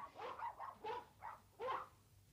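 Purebred dogs bark at an indoor dog show: five short, fairly faint barks in an uneven sequence, with a short pause before the last, louder one.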